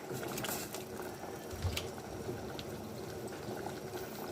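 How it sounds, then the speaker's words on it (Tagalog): Quiet bubbling of water boiling in a pot before radish is added, soft continuous simmering with occasional small clicks and pops. "so kumukulo na at ilagay na po natin ang ating labanos"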